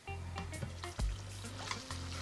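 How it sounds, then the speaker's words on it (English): Water goes into a pan of cooked seasoning while making a ground beef stew, giving a quiet sizzle with light stirring clinks and scrapes over a low steady hum, no one talking. "Now I'm going to add a little water"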